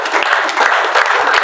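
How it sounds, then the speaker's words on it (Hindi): A large gathering claps for itself in a brief, loud burst of dense applause from many hands, close and continuous. "एक बार अपने लिए तालियां गिरा दो सभी।"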